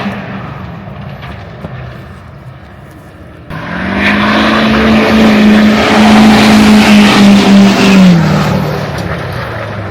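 A truck engine suddenly roars up close on a dirt track at Wayne County Speedway and stays loud for several seconds, revving with a droning pitch before easing off.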